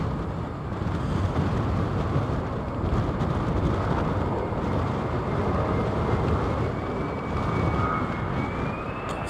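A fighter jet flying past at RAF Lakenheath, a broad, steady roar of jet noise held at a constant level with some wind buffeting, with no talking.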